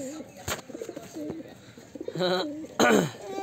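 Pigeons cooing close by in short throaty bursts, several overlapping calls with sharp clicks and knocks between them, while a person talks intermittently.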